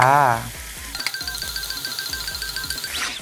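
Pork intestines dropped onto a hot Thai moo kratha grill pan burst into a quick crackling sizzle with rapid popping, close and loud, after someone speaks briefly at the start.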